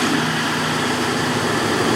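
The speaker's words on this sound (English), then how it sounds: "So let's go ahead and crank her up." Gas engine of a 2018 Ford F250 pickup running after a remote start, a loud, steady low rumbling idle with no talking.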